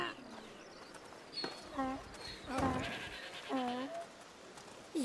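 Several goats bleat in the video game A Plague Tale: Requiem, a few wavering calls at moderate distance separated by short gaps, with a soft background hum and faint voices.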